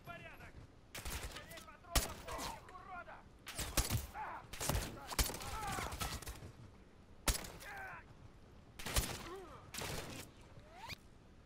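Bursts of gunfire from the video game Call of Duty Modern Warfare 3, with rapid, loud volleys repeating in irregular clusters across the whole stretch, and a player talking between and over the shots.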